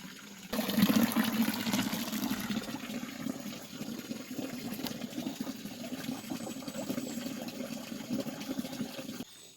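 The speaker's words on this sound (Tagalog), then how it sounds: "Yung tubig na galing sa ilalim ng lupa" Cold spring water from under a forested mountain rushes and gurgles continuously close by, a steady splashing flow that begins abruptly and runs without talk until it cuts off.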